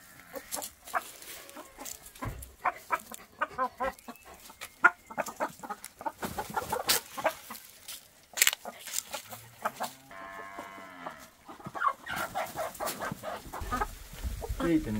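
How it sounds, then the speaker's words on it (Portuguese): Chickens and a rooster cluck in short, irregular bursts close by, with a few louder squawks and a brief harmonic call partway through, under some background activity. "Tem um galo, hein?"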